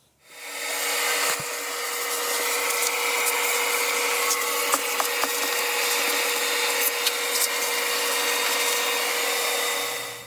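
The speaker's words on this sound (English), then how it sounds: "Now that I'm done with vacuuming" Vacuum cleaner sucking up wood debris from a woodworking mess, a loud steady roar starting abruptly and running almost unbroken for several seconds, with occasional small clicks of debris being drawn in, no voices.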